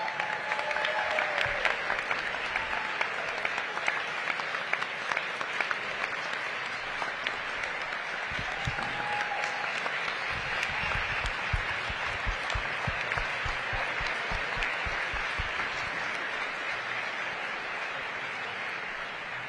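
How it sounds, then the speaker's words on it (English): A crowd at a city budget forum applauds continuously for about twenty seconds, the clapping dense and even throughout. "Let's give her a round of applause."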